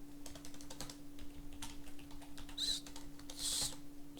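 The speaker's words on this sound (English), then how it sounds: "Sorry about the typing." Typing on a computer keyboard: a quiet, irregular patter of close key clicks with a few louder taps, over a faint steady hum.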